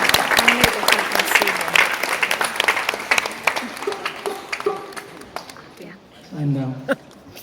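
An audience at a live music set claps loudly for the bass player, the applause strong at first, then thinning and tapering off, with a voice briefly audible near the end.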